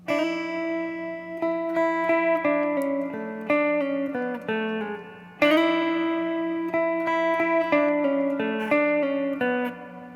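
An electric guitar plays the opening four bars of a song: a clean, sustained chordal pattern of ringing strums and notes, loud and alone, with a fresh attack midway.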